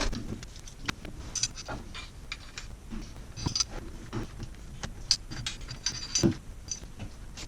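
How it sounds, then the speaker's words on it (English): A lens is swapped on a Panasonic GH4 camera with a run of quiet mechanical clicks, ratchets and small taps scattered through the clip, close and soft with no talking. "So swapping lenses before attaching to the gimbal."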